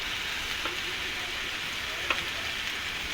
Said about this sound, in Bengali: এখনই মশলাটা ভালোভাবে ভেজে নিচ্ছে